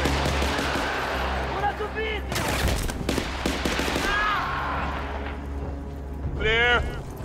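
Artillery and gunfire in the video game Battlefield Bad Company, sounding as a few sharp blasts and dense bursts of shots over a low battlefield rumble, with voices calling out in between.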